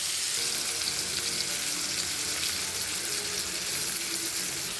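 Chili powder sizzles and is stirred into a frying spiced base for a brinjal and potato kara kuzhambu, giving a steady, continuous close-up hiss throughout with no talking.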